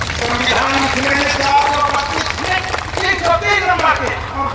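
A rally audience claps in a dense, sustained wash of applause mixed with crowd murmur and voices, loud and continuous throughout.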